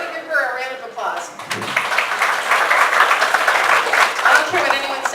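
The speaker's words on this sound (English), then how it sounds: "Everybody give her a round of applause." Clapping breaks out from a small training-class audience after an earlier voice, building into a steady round of applause at moderate volume.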